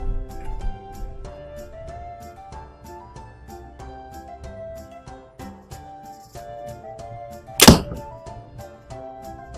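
A single sharp, loud thunk of an arrow striking an archery target, shot from a bow fitted with an Allen Company fall-away arrow rest, stands out once over steady background music.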